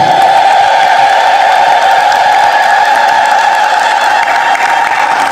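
A church congregation ululates loudly and continuously, a sustained shrill trilling with applause mixed underneath.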